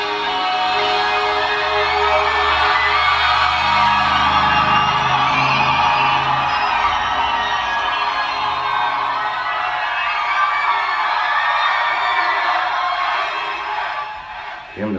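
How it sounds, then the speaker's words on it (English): A large crowd at a live concert in the Czech Republic screams and cheers in a dense, continuous roar that holds steady for the whole stretch before easing off at the end. "Damn, the crowd was screaming his name."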